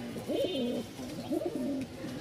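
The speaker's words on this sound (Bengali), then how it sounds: "নরের ডাকটা দেখে বুঝতে পারতেছেন মাশাআল্লাহ খুব ফাটাফাটি একটা নর" A male pigeon coos outdoors in two close, rolling, throaty phrases, loud and near, with no one speaking over it.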